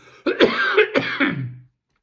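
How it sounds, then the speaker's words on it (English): A couple of harsh, close coughs in quick succession, followed by silence. "apologies for coughing"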